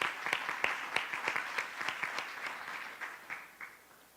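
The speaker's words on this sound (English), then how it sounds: "Let's give Principal French another round of applause." An audience at a Charlotte-Mecklenburg Schools meeting claps for a school principal, a moderate burst of individual claps that gradually thins and fades.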